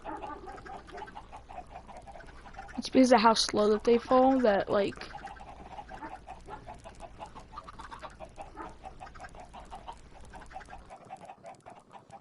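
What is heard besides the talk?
chickens clucking in video game Minecraft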